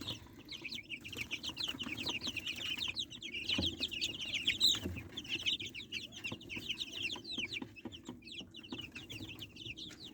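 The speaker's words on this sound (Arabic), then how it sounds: "الفراخ البلدي معروفه بكده، اللي هم يعني ما بيسكتوش" Young baladi free-range chickens, about twelve days old, keep up a busy stream of high chirps and clucks, with a few light rustles nearby and no talking.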